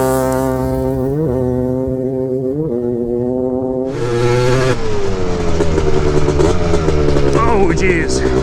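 A Honda TRX250R ATV drag build revs hard in second gear for a launch, its two-stroke engine buzzing loud and close as the pitch climbs, dips and surges, with a harsher blast partway through.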